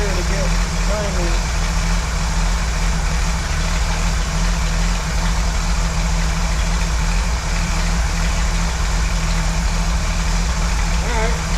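A Jeep CJ/YJ engine just fitted with a swapped carburetor runs loud and close, a steady droning rumble that holds without pause and masks much else.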